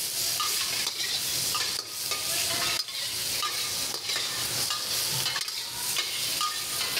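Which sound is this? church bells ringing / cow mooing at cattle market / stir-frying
stir-frying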